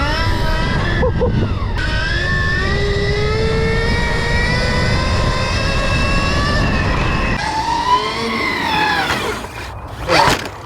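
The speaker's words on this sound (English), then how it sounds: "Finally on the Supermoto Stark Varg. We're gonna put it to the test, see what it can do." Stark Varg electric supermoto motorcycle, 80 hp, being ridden: a loud, continuous electric motor whine that rises and falls in pitch with speed, over rushing wind noise, with a brief burst near the end.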